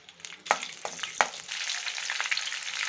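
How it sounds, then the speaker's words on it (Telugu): Chopped green chillies fry in hot oil in a pan, crackling and sizzling close up, with sharp pops at first that settle into a steady hiss. "ఆయిల్ వేడెక్కిన తర్వాత పచ్చిమిర్చి చిరుకలు వేసి 1 నిమిషం వేయించుకోవాలి."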